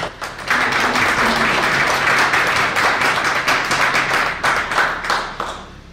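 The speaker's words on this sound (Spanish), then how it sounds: "que con un fuerte aplauso recibamos a la doctora." Loud, sustained applause from an audience at a book presentation welcomes a doctor to the stage, with many hands clapping close and dense before the sound begins to thin out at the end.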